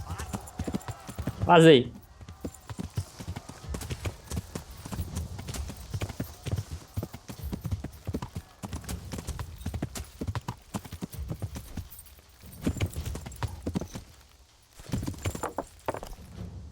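A horse gallops in the video game Kingdom Come: Deliverance, with a steady close run of hoof clip-clops and one loud whinny near the start, under someone speaking Portuguese.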